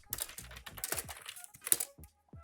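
Someone types a search on a computer keyboard, a quick run of close, light key clicks and taps with brief pauses, heard alone without talk.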